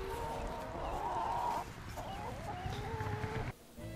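Egg-laying chickens on a grass farm cluck and murmur in a steady, fairly close flock chatter for a few seconds, with soft outdoor background.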